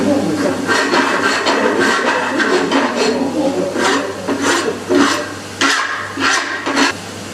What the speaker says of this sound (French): je vais faire à la lime là